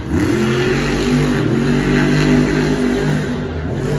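Monster truck engine at a muddy Monster Jam show in Jacksonville, Florida, revving loud and steady with a deep rumbling drone that holds for about four seconds, no talk over it.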